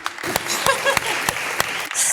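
Audience applause for a band at a concert performance, a lively wash of many hands clapping with a few louder nearby claps, fairly close and loud, with no voices over it.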